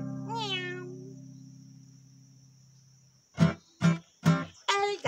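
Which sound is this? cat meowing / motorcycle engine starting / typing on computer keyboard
cat meowing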